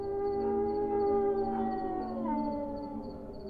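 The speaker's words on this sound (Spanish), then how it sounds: "escuchaban en las noches el aullido como de un lobo, pero más grueso" Deep, wolf-like howl used as a sound effect for a shapeshifting nahual roaming village streets at night; a sustained, steady, tonal wail with slowly gliding pitch, loud and alone throughout.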